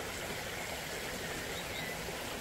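Water pours steadily into storage tanks on a ranch, a continuous close-up rushing and splashing with no pauses and no voices.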